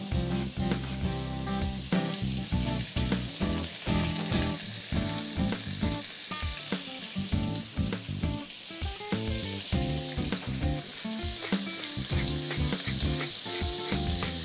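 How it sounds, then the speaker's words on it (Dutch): Steady, loud sizzling of meat pieces frying in a hot pan, with bright crackle and occasional utensil clatter throughout, no voices. "je ziet, onze stukjes bakken mooi aan"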